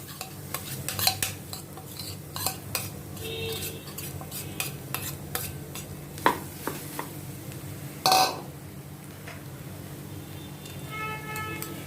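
Boiled potatoes being stirred with spices in a pan: repeated scraping and clinking of a utensil against the pan over a low sizzle, with occasional louder knocks and no talking.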